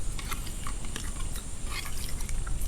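Water bubbling and gurgling up from a hole in the ground during the rainy season, a continuous close wet churning with small popping and dripping textures and no voices.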